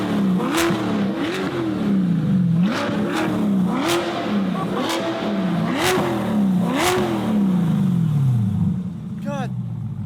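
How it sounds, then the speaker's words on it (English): Corvette C8 fitted with DDE headers revving repeatedly, rising and falling engine sweeps with sharp cracks and pops between blips, loud and close, ending in a short burst of talk. "So here's a quick clip of the new headers on the C8 for you."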